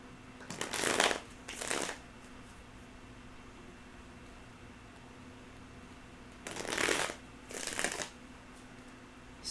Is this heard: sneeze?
no